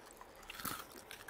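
A single slow, close bite into crispy fried chicken produces a faint, drawn-out crackling crunch with no voices.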